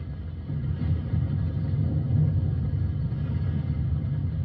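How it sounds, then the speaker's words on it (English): A steady low rumble of rain and distant thunder, constant and even throughout with no voices. "That's what I sleep to, the thunder and the rain"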